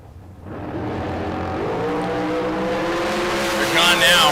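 A drag-racing dragster launches hard down the strip, its engine note climbing steadily into a sustained high roar with a brief squeal near the end, heard from trackside.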